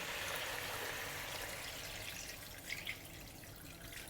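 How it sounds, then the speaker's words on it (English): Water pours steadily into a pot of duck being braised in mala sauce, a continuous splashing rush that softens toward the end with a couple of small drips, no talking. "We're adding water now."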